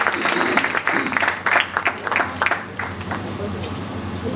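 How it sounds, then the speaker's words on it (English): A room full of people at a Christmas talk in Noida, India applauds children and their teachers, a dense patter of clapping that swells and then thins out over a few seconds. "Let all of us give them a good round of applause to children and their teachers."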